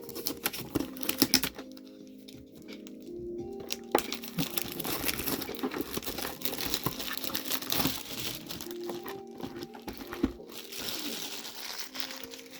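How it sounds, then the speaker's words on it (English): A trading card blaster box being cut open, close crinkling and scraping of cardboard and wrapper in irregular bursts, with brief quiet gaps. "for the first box here, just gotta cut it open"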